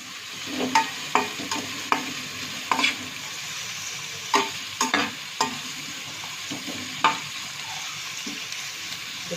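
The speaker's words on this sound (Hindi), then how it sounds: "प्याज को थोड़ा भूनेंगे।" Onions frying in a pan for red sauce pasta, a soft steady sizzle close by, broken by several sharp scrapes and taps of a spoon stirring against the pan at irregular intervals.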